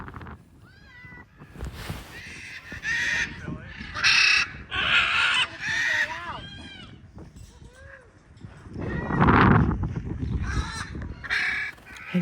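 Birds call harshly, crow-like caws repeating, as they fly in strong wind, with someone talking over the calls and gusty rumble beneath.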